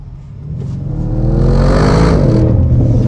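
An Audi RS6 accelerates hard, its engine note climbing steadily in pitch and loudness as the revs rise, heard close and loud, with no talking over it.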